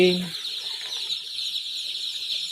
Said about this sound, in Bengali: বন্ধুরা সবাই, ব্রাউন কক মুরগি উঠিয়েছি আমরা নতুনে।